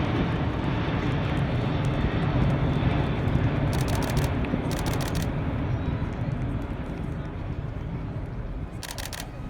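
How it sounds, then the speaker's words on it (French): The first Airbus A380 prototype, F-WOWW, makes a demonstration pass at the Jullouville air show. Its jet roar is loud and sustained, with a few bursts of rapid camera shutter clicks over it. "donc le premier prototype du 380, le numéro 1"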